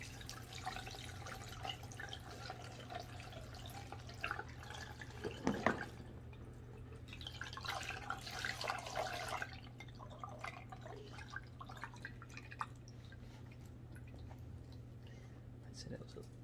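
Transmission fluid drains from a Toyota Prius into a pan, a steady liquid trickle and dripping over a constant low hum, with a louder splashy burst midway and fainter drips later.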